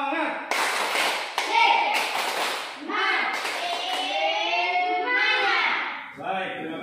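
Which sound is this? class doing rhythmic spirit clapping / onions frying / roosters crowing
class doing rhythmic spirit clapping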